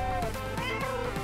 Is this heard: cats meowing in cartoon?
yes